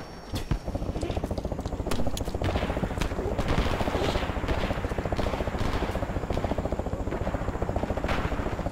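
Rapid, steady chopping thrum of a helicopter in the video game Rising Storm 2: Vietnam, mixed with bursts of gunfire and sharp cracks, loud and continuous throughout.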